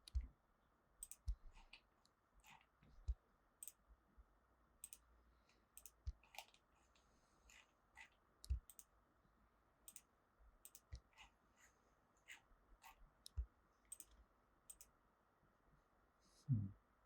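Computer mouse clicking while selecting faces in Fusion 360 on an RC crawler fuel cell model, sparse crisp clicks in irregular clusters, close and quiet against a near-silent room.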